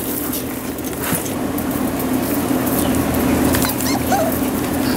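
Puppies about four and a half weeks old whimper and yip in soft, scattered bursts over a steady background hum, with no voices.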